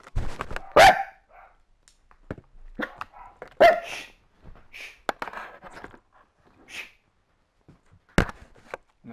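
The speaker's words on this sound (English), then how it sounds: "There's the dogs." Dogs bark in a handful of sharp, separate bursts spread across a mostly quiet stretch, some loud and close, others softer, with no talking.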